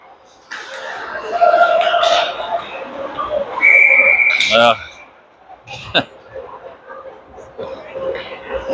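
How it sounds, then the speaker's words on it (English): A referee's whistle blows at a youth bantam ice hockey game, a sharp tonal blast rising above arena noise while voices chatter and laugh nearby. "Another whistle."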